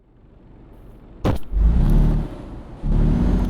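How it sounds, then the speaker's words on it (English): A truck engine in a VR truck-driving simulator game starts with a sharp burst, then rumbles and revs in low, heavy surges with a brief dip between them. "Should get a truck sound."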